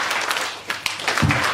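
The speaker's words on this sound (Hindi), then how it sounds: "एक साथ सभी को 2 चुटकी बजानी है और 1 क्लैप करना है" Audience at a corporate dealers meet in Delhi snaps fingers and claps in unison, a short burst of scattered snaps followed by one soft collective clap, moderately loud and close.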